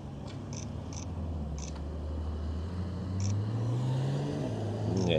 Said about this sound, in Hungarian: Végre ott jön egy Porsche.